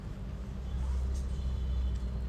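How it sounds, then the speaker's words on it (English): Mild suburban road traffic picked up outdoors on an earbud microphone, a steady low rumble of vehicles passing at moderate distance, with continuous engine and tire noise and no voices. "I am near a suburb with mild traffic. There are some vehicles passing by and some other noises around."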